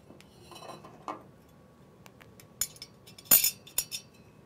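Small metal automatic transmission parts, including a plastic thrust washer and gear pieces, are set down on a workbench: scattered light clinks and clatters, with a sharper burst of metallic rattling near the end, close and fairly quiet.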